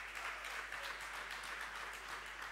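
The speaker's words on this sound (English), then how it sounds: "Please give them a big round of applause." A conference audience at a drone industry event claps in steady, dense applause for a brief stretch. The applause is faint and distant, with no voices over it.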